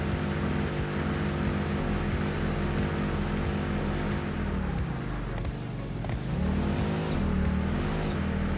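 Car engine in a factory-building video game, a steady droning hum with layered harmonic tones held throughout, rising and falling slightly mid-way as the vehicle climbs or descends, loud and continuous with no talk.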